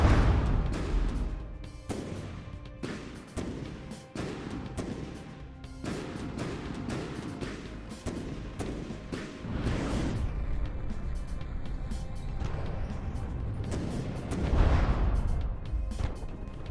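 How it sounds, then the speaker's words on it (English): Heavy cannon fire in a From the Depths naval battle, booming in dense repeated blasts with rumbling impacts and crashes, loud and continuous throughout, a big burst near the end. "Cannon doing good work there."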